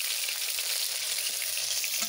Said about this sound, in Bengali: এই দেখো মাছ আমার ভাজা হয়ে গেছে